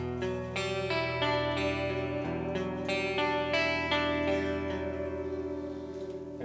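Electric guitar picks single notes one by one across a held chord shape in a rhythm pattern, repeating steadily with heavy effects and sustained ringing tones, loud and close with no voices.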